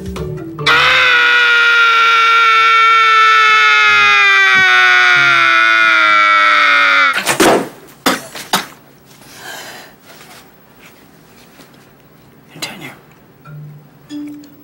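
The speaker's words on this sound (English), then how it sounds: "Thank you for the war cry, Mother." A woman lets out one long, loud, sustained scream like a war cry for about seven seconds, then it cuts off into quieter clattering and brief movement noises.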